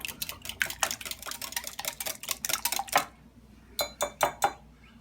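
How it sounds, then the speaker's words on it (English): A small whisk beats four eggs in a measuring cup, giving quick rhythmic clinks and taps of metal on the cup. The clinks run for about three seconds, pause briefly, then return as a few sharper strokes. "you put 4 eggs in there and you take your little whisk and whisk it up"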